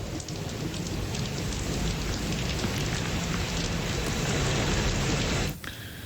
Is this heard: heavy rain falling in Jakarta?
yes